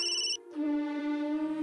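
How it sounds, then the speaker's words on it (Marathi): A phone ringtone for an incoming call in a Marathi TV serial scene: a bright electronic tone that breaks off briefly, then rings on in a steady lower melody, close and clear with no talking. "शिवचा फोन"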